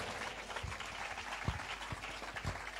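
A church audience clapping to welcome Sister Asma, a thin, distant patter of hands with a few sharper individual claps standing out, faint and spread across the moment.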